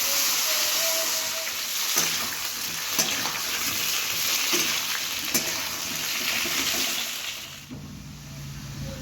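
Potatoes fry in hot oil with whole cumin seeds, making a loud, steady hiss broken by a few knocks of stirring before it eases off near the end.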